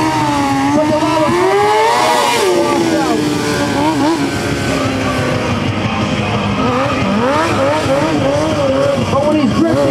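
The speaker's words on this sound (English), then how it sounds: "when he's drifting, he does not use any front brake" A freestyle stunt motorcycle drifts in circles, its engine revving and wavering continuously as the rear tire squeals, loud and close throughout, with a voice talking over it.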